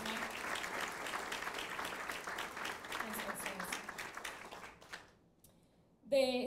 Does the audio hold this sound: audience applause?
yes